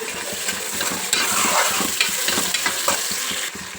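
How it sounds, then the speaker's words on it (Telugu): Onions frying in a pan for a mutton curry, a steady close sizzle with repeated scraping stir strokes running throughout, no voices. "ఉల్లిపాయ మంచిగా వేగింది కదా"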